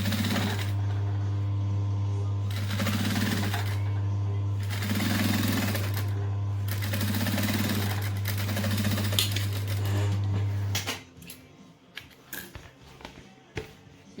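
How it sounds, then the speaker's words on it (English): Sewing machine back stitching and then running a seam along a fabric bucket bag, a steady close mechanical whir with a strong low hum and rhythmic pulses that stops abruptly, leaving faint handling clicks. "we're going to back stitch, making sure it's all lined up, and stitch along."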